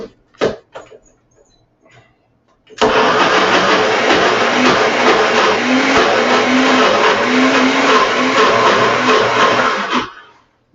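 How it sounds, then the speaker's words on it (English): A NutriBullet blender spins a cooking filling for about seven seconds, a loud steady whirring roar with a slight rise and fall in pitch, preceded by a few clicks and bumps as the unit is set in place. "So I use a NutriBullet."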